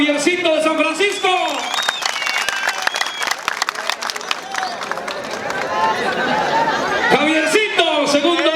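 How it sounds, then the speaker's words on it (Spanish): Rodeo crowd at a jaripeo in Ameyaltepec, Guerrero, applauding a rider with scattered claps and chatter, an announcer's voice heard at the start and end over the noise. "El aplauso para Javiercito de San Francisco."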